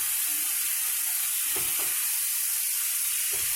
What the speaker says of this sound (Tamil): வச்சிருக்கிற ப்ரான் சேர்த்திக்கலாம். இதை நல்லா கிளறி விட்டுக்கோங்க.